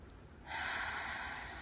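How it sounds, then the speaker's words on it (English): A single deep breath is drawn in through the nose, a soft airy inhale that starts after a quiet pause and holds steady to the end. "Take another deep breath with me."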